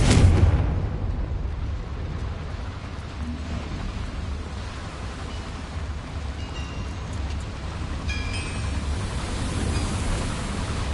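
A Confringo blasting curse from Hogwarts Legacy bursts loudly at the start, then trails into a long, dense rumbling roar that stays steady for several seconds without any talk.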